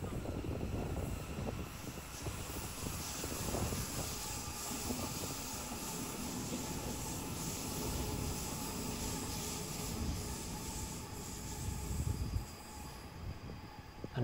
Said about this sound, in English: Here is a southbound Waratah train going towards Artarmon and the city.